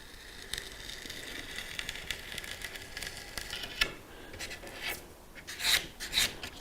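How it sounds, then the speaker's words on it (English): A Stanley knife rasps and scrapes as it trims leftover bits from the base of a scratch-built model railway escarpment, a quiet close scratching with sharper strokes toward the end. "come in with a bit of a Stanley knife and just cut away the bottom bits that are left over where the wire didn't reach"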